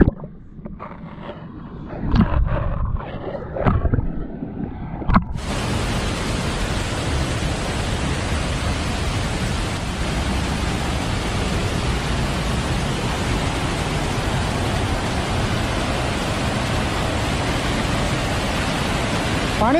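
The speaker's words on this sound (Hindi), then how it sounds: "पानी साउंड शुणु" Rushing water at Debakunda waterfall in Odisha, preceded by a few seconds of clatter and bumps, then a loud, steady, broadband roar that continues unbroken to the end.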